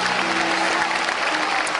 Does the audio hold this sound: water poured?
no